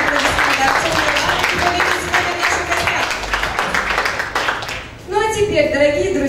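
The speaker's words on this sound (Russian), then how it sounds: "ваши бурные аплодисменты" Audience applause for a guest at a beauty contest, dense continuous clapping that fills the room for several seconds before a voice begins speaking over it.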